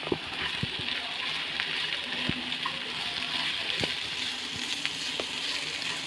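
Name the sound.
water being added to a cooking pan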